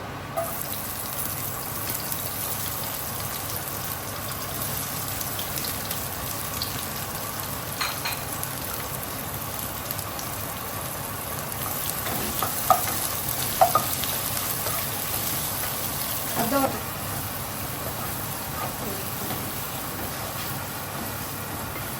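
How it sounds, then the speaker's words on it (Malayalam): Chopped onions fry in hot masala for a Kerala-style beef stew, making a continuous broadband hiss with a few faint scrapes and clinks toward the middle and later on. No one speaks. "ഇനി നമ്മൾ അരിഞ്ഞു വെച്ചിരിക്കുന്ന സവാള അതിലേക്ക് ഇട്ട് കൊടുക്കാം."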